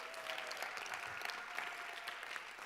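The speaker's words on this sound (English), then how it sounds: "Big round of applause" Sustained audience applause at a conference closing ceremony, a dense, steady wash of many hands clapping throughout with faint cheers mixed in.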